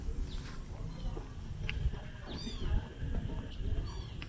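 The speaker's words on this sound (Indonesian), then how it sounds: "Ada suara anak kucing, kita cari anak kucing." A kitten meows a few times outdoors on a farm among plant nurseries, with thin high calls standing out over steady background noise and faint birdsong.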